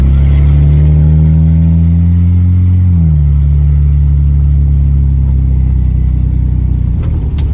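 A Ford F-150 pickup with an E4OD automatic transmission drives along, its engine a loud, close drone that climbs in pitch and then drops sharply around a gear shift before settling into a steady rumble.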